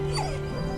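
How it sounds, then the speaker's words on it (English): A dog in the video game Soul Worker gives a short high yip that slides into a whimper, close and clear over steady game music. "Here's the dog again."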